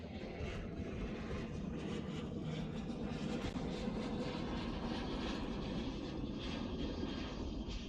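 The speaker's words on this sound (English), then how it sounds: "And there we go, got Southwest departure." A Southwest Airlines jet departs San Jose airport, a steady, broad jet engine roar heard from a distance that holds at an even level throughout.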